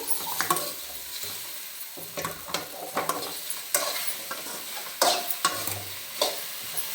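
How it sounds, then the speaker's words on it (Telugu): Raw okra sizzling and being stirred in a pan, with irregular scraping strokes over a soft, steady frying hiss, close and fairly quiet. "ఇవి కొంచెం బాగా కొంచెం వేగిన తర్వాత ఆయిల్ వేసుకోవాలండి"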